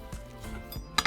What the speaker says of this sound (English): Next, we're going to slice down our avocado in half.